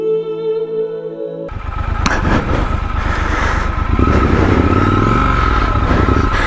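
Triumph Scrambler 1200 XE motorcycle engine labouring off-road under traction control, a steady loud rumble starting abruptly after a quiet tonal stretch, with a rising rev and clatter toward the end.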